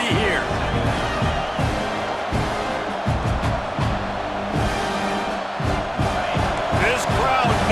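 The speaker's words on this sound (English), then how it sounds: "This crowd knows when to bring it." Stadium crowd noise from the College Football 26 video game, a broad steady roar of cheering fans that swells at the end, with a commentator talking over it throughout.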